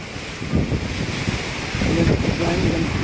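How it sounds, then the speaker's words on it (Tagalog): Gusty typhoon wind from Typhoon Tino sweeps through an outdoor spot in Iloilo City, Philippines, a steady roar with buffeting microphone noise that swells louder midway. "Ganyan ang hangin, ganyan lang."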